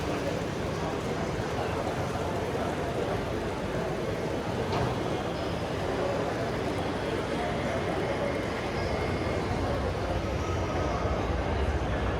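Model locomotive UP 1111 running on a layout at a railroad hobby show, a steady low rumble and whir held evenly throughout, with a hall's background hubbub around it.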